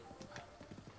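Horse hooves in Zelda Breath of the Wild, a quick run of faint clip-clop steps in a steady galloping rhythm, soft and low in level, with possible voice underneath.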